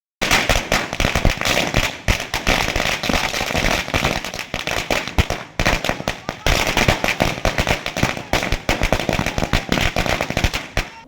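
Firecrackers set off by BJP workers at a victory celebration in Karwar and Ankola, a loud, dense string of rapid crackling bursts with a brief gap midway before the barrage resumes.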